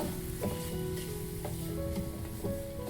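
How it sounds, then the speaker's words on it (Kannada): Upma semolina (rava) roasts in a pan with a steady dry sizzle and occasional scraping stirs, close and moderately loud, with no one speaking. "ರವೆನ ನಾವಿಲ್ಲಿ ಚೆನ್ನಾಗಿ ಹುರ್ಕೋಬೇಕು"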